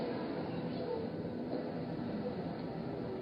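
A steady rumble and rolling hiss of a Russian passenger train moving along the rails through Manchuria, continuous and even, heard from inside a carriage with no distinct clacks.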